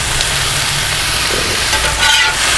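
Chicken and peppers sizzle loudly on a Blackstone flat top grill, a dense, continuous close hiss with faint scraping near the end and no talking.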